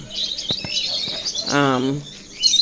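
Lovebirds in a home-built cage give short, sharp chirps close by, with a quick rapid trill midway and scattered tweets before and after.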